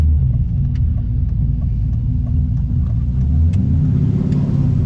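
LS V8-swapped BMW E46 driving under light throttle, a loud, deep engine rumble heard from inside the car, steady and close with faint ticks and rattles over it.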